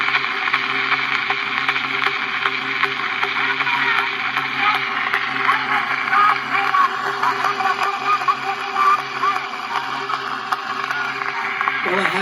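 A Columbia wax cylinder record plays on a phonograph, a thin narrow-band voice and music under steady surface hiss and crackle throughout.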